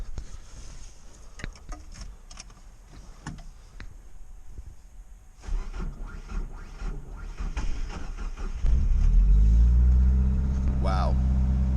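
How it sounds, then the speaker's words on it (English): A Mazda B2000 pickup's four-cylinder engine is cold started: some clicks and handling noises, a cranking stretch, then the engine catches and settles into a loud, rough idle near the end. "Let's get a little cold start going."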